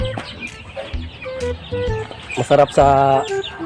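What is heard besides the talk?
chicks and chickens clucking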